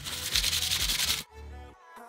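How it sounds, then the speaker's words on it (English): Oily metal pulley plates being wiped clean by hand: a close, steady run of rhythmic rubbing strokes that stops partway, followed by quieter handling noise. "So the plates are super oily, so I need to clean them, wipe them."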